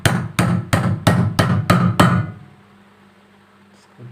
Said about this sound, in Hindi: इसको ठोक लेता हूँ।